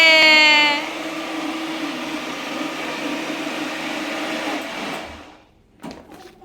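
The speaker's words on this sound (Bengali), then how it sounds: "এইভাবেই সবগুলো খিচুড়ি ব্লেন্ডার করে বাটিতে রাখা হবে" A kitchen blender whirs steadily as it purées cooked khichuri, a loud sustained motor drone lasting about five seconds before winding down, followed by a few faint knocks.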